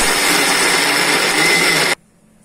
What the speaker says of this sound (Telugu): ఇదిగోని మిక్సీ వేసుకుంటున్నాను.